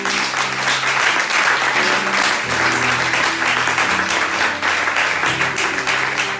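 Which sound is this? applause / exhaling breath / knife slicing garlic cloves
applause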